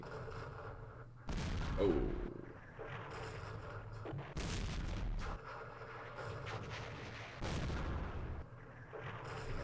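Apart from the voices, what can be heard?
French artillery fire, from the video game Campaign Series Vietnam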